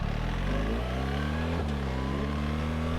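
A BMW R 1300 GS Adventure motorcycle with automatic shift assist revs its engine, a steady droning hum that climbs and then settles, continuous and fairly quiet.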